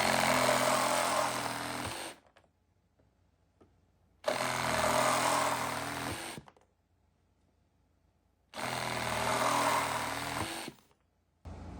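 A Milwaukee M12 Fuel compact reciprocating saw with a new 14 TPI metal-cutting blade cuts schedule 40 PVC in three separate loud, close bursts of harsh buzzing, each about two seconds long, with short silences between them.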